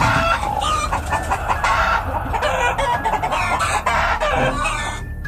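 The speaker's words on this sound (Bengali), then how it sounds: "মুরগিগুলো এরম ভাবে ডাকছে কেন?" Chickens in a coop at midnight cluck and squawk loudly and continuously, a dense agitated flock noise close up with no pauses.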